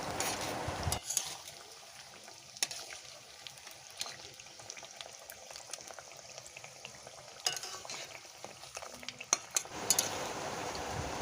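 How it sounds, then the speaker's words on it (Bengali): Pumpkin chops fry quietly in oil in a pan over a medium flame, a soft low sizzle broken by occasional clinks and scrapes of a utensil as the chops are turned, with louder handling at the start and end. "গ্যাসের ফ্লেমটা মিডিয়াম রেখে এগুলো ভাজতে হবে উল্টে পাল্টে করে"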